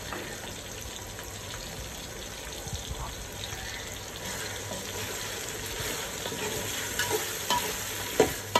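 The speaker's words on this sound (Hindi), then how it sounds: "फिर उसके बाद ये सब भुनी जाएगी।" Masala paste for Bombay-style chicken biryani frying and being stirred in a pan: a steady, close sizzle with soft scraping stir strokes throughout and a few sharper clinks near the end, no talking.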